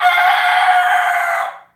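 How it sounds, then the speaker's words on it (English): A single loud, drawn-out crow from a rooster nearby, holding steady for about a second and a half before cutting off. "These chickens here, we used to have the chickens for their eggs"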